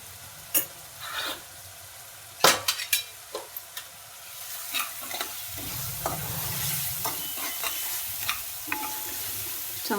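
A mixed-lentil batter seasoned with turmeric and salt is sautéed and stirred in a pan, a low continuous sizzle broken by sharp spoon clatters and scrapes, busier near the start.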